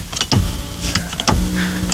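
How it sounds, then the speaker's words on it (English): A power seat motor in a 2000 Toyota Crown Estate Athlete V whirs and hums steadily inside the cabin, with a couple of sharp clicks and thumps as the mechanism starts and shifts. "The seat makes a weird sound when it moves."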